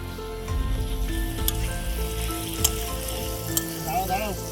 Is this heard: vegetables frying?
yes